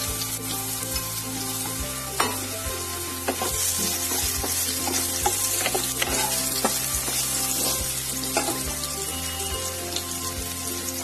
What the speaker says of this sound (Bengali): মাছ ভাজার তেলে আমি আলুটাকে ভেজে নেব